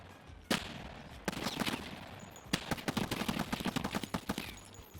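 Gunfire in the video game Escape from Tarkov, including a shotgun: sharp, loud, close shots at irregular intervals, from single blasts to a rapid volley of a dozen or so cracks near the end.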